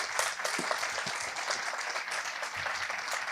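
Audience applause at the close of a Spanish-language talk on the human brain, a steady dense wash of many hands clapping together throughout, fairly distant and even in level, with no voices over it.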